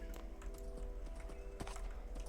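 A horse in Minecraft trots through a city, its hooves making a quick, regular clip-clop close by over a quiet game background, with no speech.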